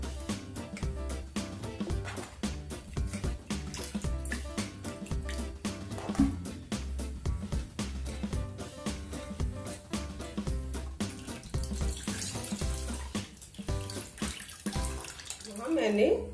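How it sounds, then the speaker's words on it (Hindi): Running cold tap water splashes steadily over paneer curds being rinsed, with a continuous rhythmic pulse of background music underneath. "हम ठंडे पानी से धुल लेंगे जिससे इसमें से विनेगर की खटास पूरी तरह से निकल जाए।"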